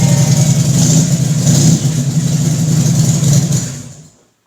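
A vehicle engine revs loudly and close before a ride, with a steady rumbling roar, a brief dip partway through, then a quick fade to silence at the end, with no talking.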